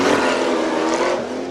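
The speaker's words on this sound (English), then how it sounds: "V8 rear-wheel drive sounds so right on takeoff." A V8 rear-wheel-drive race car with a light frame pulls away hard at a hill-climb event, its engine roaring loud and close with a rising, gravelly tone throughout.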